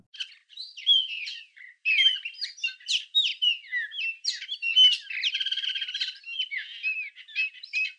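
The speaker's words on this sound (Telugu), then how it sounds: "ప్లెజెంట్గా ఆ బర్డ్స్ ఆ సౌండ్ వినండి" Birds chirp and sing in the green hills of Wayanad, Kerala: bright, overlapping tweets, trills and whistles come in quick bursts with short pauses, clear and fairly close, and no voices.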